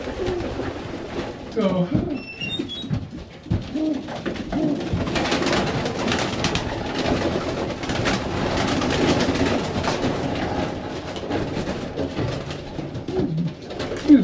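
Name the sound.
pigeons cooing in a pigeon loft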